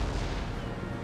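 Cannons fire chain shot in a naval battle in Empire: Total War, a dense rumbling boom of heavy gunfire, loud and close, filling a brief moment with low-frequency blasts.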